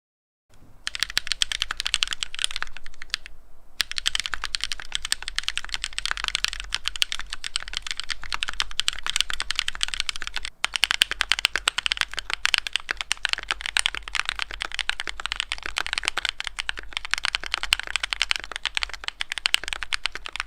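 Continuous typing on a Keychron Q1 mechanical keyboard fitted with sound-dampening mods, a dense, close stream of clicky keystrokes that runs steadily throughout with only brief pauses and no talking.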